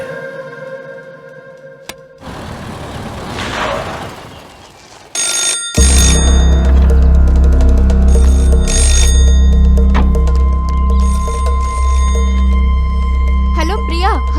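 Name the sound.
telephone ringing in a movie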